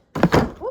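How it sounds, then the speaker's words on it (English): A sudden dull thunk of a camera being knocked, close and fairly loud, with a brief rattle after. "whoops. I knocked my camera."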